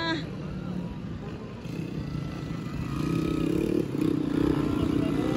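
Motocross motorcycles race through water during the final heat of an invitational motocross event, engines droning loud and steady with splashing clatter and a rising rev near the end, under crowd noise and voices.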